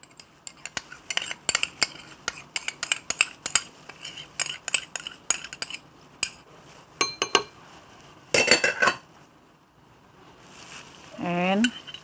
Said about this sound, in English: Aunty would like to mix this sugar, the brown sugar, and tomato sauce